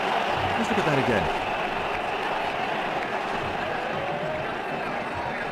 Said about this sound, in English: He's getting a polite round of applause as he makes his way to the pavilion